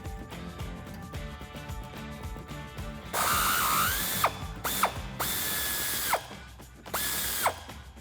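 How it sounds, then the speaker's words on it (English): A hand ratchet backs out a sway bar bolt from the frame of a Jeep Wrangler JL, giving several close bursts of rapid, crisp pawl clicks with short pauses between strokes. "it'll be a little bit easier to get it the rest of the way out with the ratchet"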